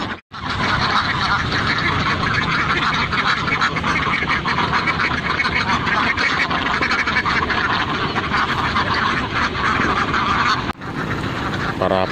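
A large flock of ducks on a rice-field duck farm keeps up a dense, loud, unbroken chorus of quacking from start to finish.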